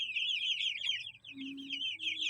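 Broiler chickens about 45 days old clucking in a farm pen, a steady chorus of close, continuous clucks and chirps with a few lower calls.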